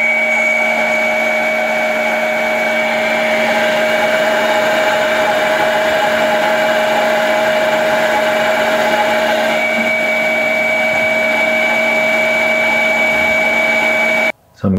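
A heat gun blows steadily on heat shrink tubing over a crimped wire connection for a 3D printer heated bed plug, a loud continuous whirring drone with a steady hum that cuts off abruptly near the end.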